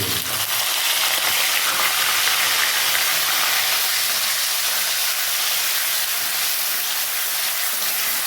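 Onion paste frying in plenty of hot oil for a Bengali tel koi fish curry, a loud, dense, continuous sizzle and hiss that holds steady throughout without any talk.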